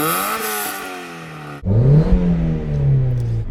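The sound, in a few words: Mazda MX-5 Mark 1 engine revving with aftermarket exhaust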